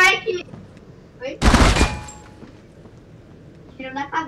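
Gunfire from the Critical Ops mobile shooter game, a single dense burst of shots lasting about half a second, fairly loud, set between stretches of people talking.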